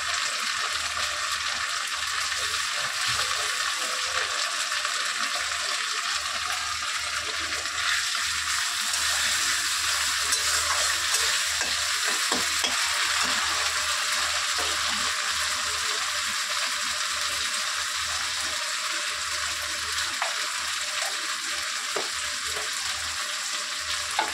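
A paste of ginger and green chili fries in hot oil while it is stirred. A steady, even sizzle runs throughout with faint scraping from the stirring and no talking.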